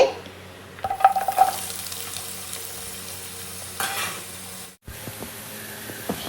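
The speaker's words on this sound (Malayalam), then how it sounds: "വെളിച്ചെണ്ണ നന്നായിട്ട് ചൂടാകുമ്പോഴേക്കും നമുക്ക് സവാള ചേർത്ത് കൊടുക്കാം നമ്മളിവിടെ സവാള ചേർത്ത് കൊടുക്കുന്നുണ്ട്" Sliced onions dropped into hot coconut oil in a pan for chicken curry: a steady close sizzle with scraping stirs and a brief clatter early, a quick cut near the end, then the frying hiss resumes with light taps, no voices.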